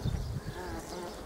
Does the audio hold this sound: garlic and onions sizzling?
no